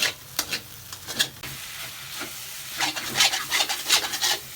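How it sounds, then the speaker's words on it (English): A spatula scrapes rhythmically across a pan of beef and eggs frying for Hainanese beef, rasping strokes in quick bursts over a constant close sizzle, with no voices. "A lot of scraping to do."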